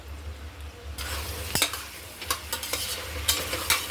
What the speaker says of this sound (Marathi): सोयाबीन याच्यामध्ये छान परतून घेऊ.